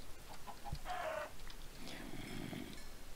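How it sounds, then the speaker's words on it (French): Chickens cluck in the Minecraft FTB modpack video game, a few short clucks and squawks over a steady background hiss of game ambience. "des poulets!"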